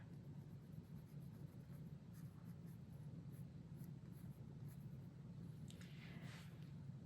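A graphite pencil shades softly across paper for a Zentangle drawing, faint close scratchy strokes repeating in a steady rhythm, with a brighter scrubbing burst near the end and no talking.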